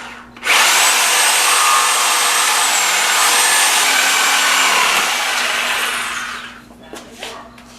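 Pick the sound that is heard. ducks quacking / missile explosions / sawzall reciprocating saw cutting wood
sawzall reciprocating saw cutting wood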